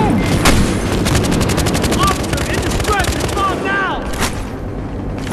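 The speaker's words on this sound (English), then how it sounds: "I'm getting shot at by something" Heavy automatic gunfire crackles in a Battlefield Hardline multiplayer match, repeated rapid bursts loud and close, with chirping game effects and shouted callouts mixed in.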